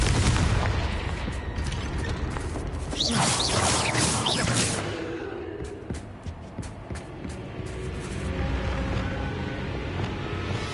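A Confringo fire spell cast in the Hogwarts Legacy game, a loud dense booming, whooshing blast that fills the first half and then tails off into a rumbling, crackling backdrop with scattered sharp pops.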